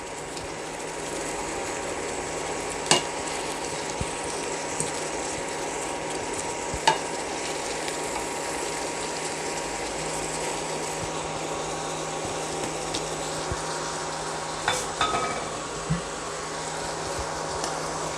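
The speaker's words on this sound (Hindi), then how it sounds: "अच्छी तरह मिक्स करें।" Steady frying sizzle of sweet pumpkin halwa with soft scraping of a spoon stirring in a pan, a few sharp clinks scattered through, no talking.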